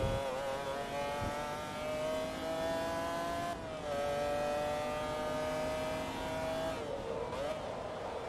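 McLaren F1 engine in the racing game Forza Motorsport 2, a loud, continuous high-revving whine that climbs steadily through the gears with brief dips at shifts, with a voice faintly under it.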